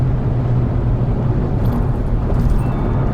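A Hyundai Veloster N engine at full throttle roars loudly and continuously, a dense low rumble with no pauses, as if heard from inside the vehicle.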